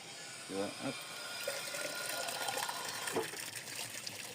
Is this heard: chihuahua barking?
no